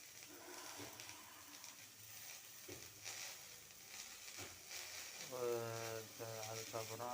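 Ridge gourd sautéing in a pan with onion, green chilli and salt: a soft, steady sizzle with occasional stirring knocks, under a voice speaking through most of it.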